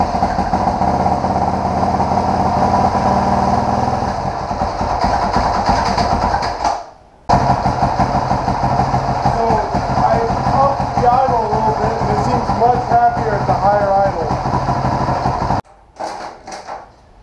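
A 2003 KTM 525SX supermoto engine runs at a steady, close idle for most of the stretch, cutting out briefly twice.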